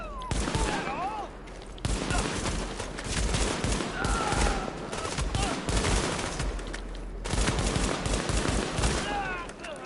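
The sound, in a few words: gunfire in video game The Division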